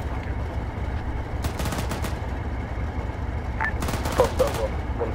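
Gunfire in the video game Arma 3, with short bursts of rapid shots around the second and fourth seconds over a constant low rumble of battle, while voices speak over radio.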